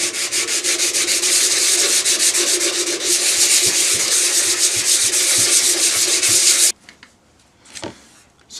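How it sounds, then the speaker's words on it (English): Sandpaper is rubbed briskly over a shiny surface on a part being prepared for filler, a loud rhythmic scratchy swishing that runs steadily and then stops, followed by a few faint scrapes. "I might give it a quick rough up with some sandpaper first."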